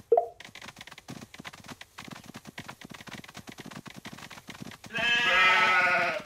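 Sheep bleat in the Paw Patrol Academy children's video game during a round-up level, a pattering of small footsteps followed by a loud, sustained, wavering bleat near the end, with no talking.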